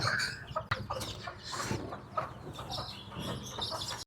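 Chickens and a rooster clucking at close range in a mixed coop with pigeons, scattered clucks and bursts of fowl calls over a steady busy background, with no talking.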